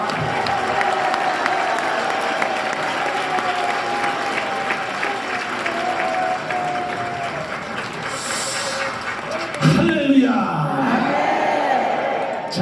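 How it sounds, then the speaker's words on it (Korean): A church congregation gives steady applause as the pastor comes forward to speak. The clapping holds at a moderate level throughout, with a brief louder burst of crowd noise near the end. "목사님 나오실 때 힘찬 박수로 환영하시도록 합니다"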